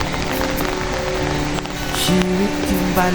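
Heavy rain pours steadily, a dense, loud, continuous hiss and patter of drops on surfaces while walking outdoors, with faint tonal background sounds mixed in.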